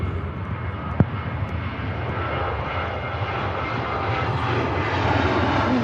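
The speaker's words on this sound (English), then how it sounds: "Ryanair out to Cork." Ryanair airliner departing Manchester Airport for Cork: a loud, steady broadband engine roar fills the whole stretch and swells gently toward the end, with no talking.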